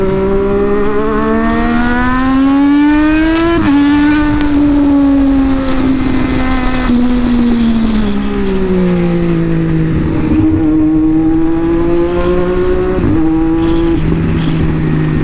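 A Triumph Daytona 675R motorcycle exhaust roars loud and close, its engine pitch climbing and falling through repeated revs and gear changes over fifteen seconds, a sustained rasping howl with no voices.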